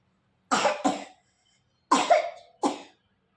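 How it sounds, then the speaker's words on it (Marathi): Four sharp, close coughs come in two quick pairs, separated by a short pause, with silence around them. "तिला लागला खोकला आणि मला पण लागला खोकला"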